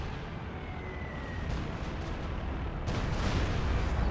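An SU-85 tank destroyer and an anti-tank gun fire in Company of Heroes 2 amid a dense, rumbling wash of battle noise, with heavier blasts swelling in around the middle and near the end.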